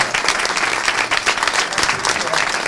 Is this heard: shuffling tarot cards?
no